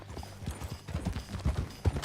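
Horse hooves clip-clop at a steady riding pace in the video game Red Dead Redemption 2, a close, rhythmic run of hoofbeats with a few heavier thuds.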